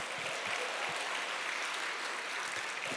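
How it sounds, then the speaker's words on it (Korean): Seminar audience applauding in a large hall, a steady wash of clapping from many hands filling the short stretch at moderate distance. "박수 보내주세요"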